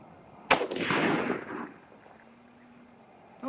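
A single .308 Winchester rifle shot cracks out sharply, followed by a rolling echo that swells and fades over about a second before the scene falls quiet.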